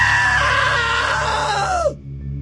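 A long piercing scream from the video game What Remains of Edith Finch, loud and sustained for nearly two seconds before sliding down in pitch and breaking off over a low steady hum.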